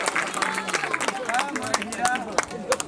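Audience clapping at a live gathering, a loose scatter of hand claps mixed with crowd noise and chatter, fairly close and steady for the whole stretch.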